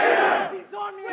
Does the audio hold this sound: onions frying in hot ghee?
no